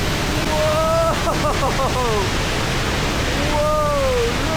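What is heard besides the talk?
High Force waterfall, water rushing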